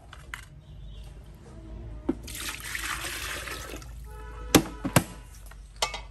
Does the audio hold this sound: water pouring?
yes